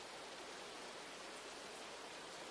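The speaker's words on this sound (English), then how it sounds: "Still in very blinding rain." Dense, hissing downpour of heavy rain in Roblox Twisted, a constant wash of broadband noise that stays even and fairly quiet with no other sounds.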